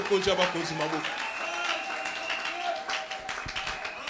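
A church congregation claps and cheers in praise, a burst of applause and shouting that fades slightly under a preacher's voice speaking in French.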